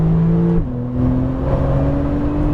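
Porsche 911 Turbo engine droning loudly on a racetrack, pitch stepping down abruptly as it downshifts, then holding a steady rising hum, continuous and close throughout.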